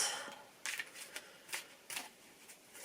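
A small deck of cards is shuffled by hand, quiet crisp riffling bursts repeating irregularly, close and alone.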